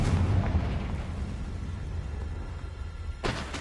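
In a Harry Potter video game, a Confringo blasting curse goes off with a booming explosion, followed by a rumbling decay and a second sharp burst near the end.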